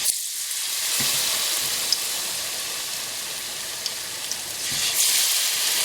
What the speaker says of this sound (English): Now we're going to fry the second batch.